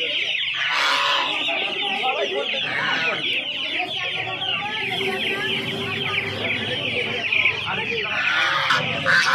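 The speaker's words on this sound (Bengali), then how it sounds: "তো অস্ট্রেলিয়ান মুরগির বাচ্চা রয়েছে দেখতে পাচ্ছ" Chickens and chicks, including an Australian breed, cluck steadily at the Uluberia hen market, a dense close chorus of fowl calls with an occasional crow and market murmur throughout.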